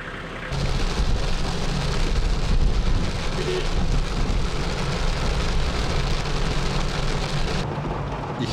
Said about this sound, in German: Zum Glück stoppte der Regen, bevor wir unser nächstes Ziel erreichten.